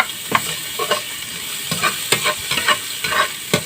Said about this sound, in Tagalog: Pag mainit na, unahin natin lagi yung bawang.